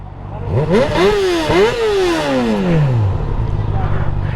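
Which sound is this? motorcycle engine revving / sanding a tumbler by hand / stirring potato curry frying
motorcycle engine revving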